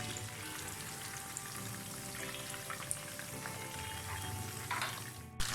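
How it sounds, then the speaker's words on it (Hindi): Chicken pieces fry in oil over a medium-low flame, giving a steady, dense crackle and sizzle with scattered pops throughout, close and fairly quiet, with no voices. "साइड चेंज करने के बाद मैं फ्लेम को थोड़ा मीडियम लो पर कर 5 मिनट तक इसको मीडियम लो फ्लेम के ऊपर कुक कर लूँगी"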